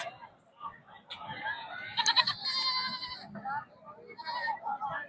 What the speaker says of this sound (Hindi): ये बकरा अच्छा है।